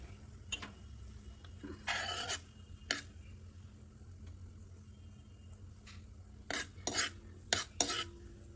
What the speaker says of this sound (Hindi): राई अच्छे से तड़क जानी चाहिए।